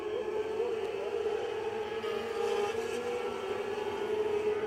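Mini sprint race cars roar around the track under green flag at a 2006 feature race, a steady distant engine drone with no breaks.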